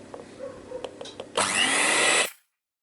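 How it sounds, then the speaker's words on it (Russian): An electric hand mixer whips 150 grams of butter for Napoleon cake cream, starting abruptly with a loud, steady high-pitched whir that runs for about a second before cutting off, after faint clinks and kitchen sounds. "Здесь у меня 150 грамм масла, взбиваю миксером."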